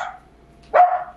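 A single sharp bark from a small, restless and frightened dog indoors, one short burst near the end after a brief fading yelp at the start, with no talk.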